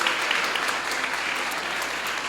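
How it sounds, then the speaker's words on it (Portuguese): Audience applause fills a church gathering during a Holy Week service, a steady, dense clapping throughout at fairly loud level with no speech over it. "Agora uma salva de palmas"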